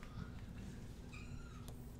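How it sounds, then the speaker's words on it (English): A cat meows faintly in the background of a quiet indoor room, one or two short high calls near the end of a low steady hum. "what was that cat meow?"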